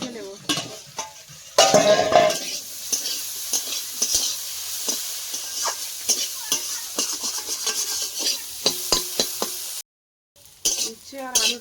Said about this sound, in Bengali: উচ্ছে আর আলুটা ভাজা হয়ে গেছে